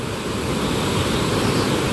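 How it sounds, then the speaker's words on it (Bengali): A swollen river surges in a strong current past the new Khirpai Kethia bridge beside the old one, making a loud, steady, close roar of rushing water with no voices. "এখান থেকে জলটা নামছে, দেখো শঁ করে জল নামছে একদম"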